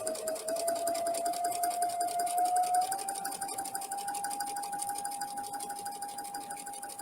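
Sewing machine stitching quilt blocks in a chain, a steady close whir with a fine rapid needle rattle and a high sustained whine running throughout, no talk.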